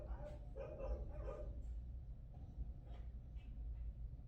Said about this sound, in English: My dogs were going off.